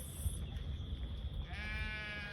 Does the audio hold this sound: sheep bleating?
yes